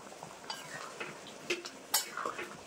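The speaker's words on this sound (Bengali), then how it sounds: "এখন আমি ঢাকাটা খুলে ভেজে রাখা আলু দিয়ে দেবো।" Fried potatoes go into a pot of mutton curry, bringing a few close metallic clinks and scrapes of a spoon against the pot, with two sharper knocks, over a low kitchen background.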